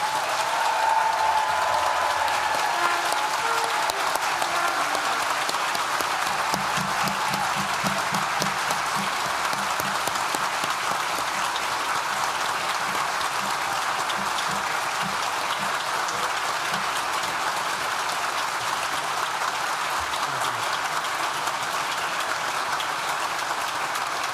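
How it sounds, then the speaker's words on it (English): A large graduation ceremony crowd gives a loud, sustained round of applause for graduates inside a university hall, a dense, steady wash of clapping that continues at full strength throughout. "raise the roof with one final loud and long round of applause for all of our graduates"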